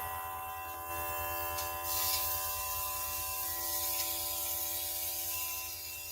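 Airbrush spraying paint while its needle is out of place, a steady close hiss of air with a constant mechanical hum beneath, continuous throughout without speech.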